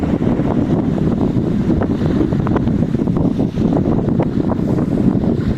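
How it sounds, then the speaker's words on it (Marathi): Strong wind on a mountain trek at Harishchandragad buffets the microphone in a continuous low roar, with faint water blended underneath; no voices. "वारा पण इथे प्रचंड आहे"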